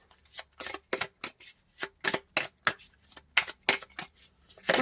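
Tarot cards are shuffled and drawn in quick, crisp riffles and flicks, about a dozen close, sharp bursts in a fairly even rhythm with quiet gaps between them and no voices.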